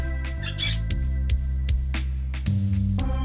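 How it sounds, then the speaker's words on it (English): Birds squawking in the Stardew Valley game, a run of sharp calls repeating over a steady layer of game music, with no talking. "Oh my god, there's birds."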